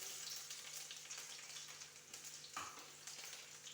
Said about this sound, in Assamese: এতিয়া পিঁয়াজখিনি ভাজি ল'ম